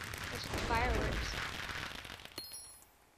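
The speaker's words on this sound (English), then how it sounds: "There's fireworks." Fireworks go off in the Minecraft video game, a dense crackling and popping burst that swells and fades over a few seconds, then a bright whistling tone near the end.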